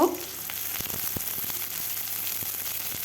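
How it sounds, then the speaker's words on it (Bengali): Onion, green chilli and five-spice fry in hot mustard oil for a ridge gourd curry, giving a steady close sizzle with scattered crackles and pops throughout, no voices. "তেল গরম হলে দিয়ে দিলাম পাঁচফোড়ন, কাঁচা লঙ্কা, পেঁয়াজ দিয়ে লাল লাল করে ভেজে নেব।"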